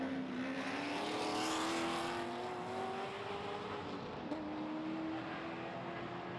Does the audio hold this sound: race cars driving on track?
yes